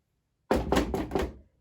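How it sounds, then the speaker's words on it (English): Four firm knocks land in a quick, even rhythm, close and fairly loud, after a moment of silence and with no voices. "Knock, knock."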